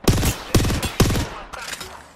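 Gunfire in Apex Legends on PS5 comes as three loud, close bursts of rapid shots about half a second apart, then a slightly weaker fourth burst fading into a reverberant tail.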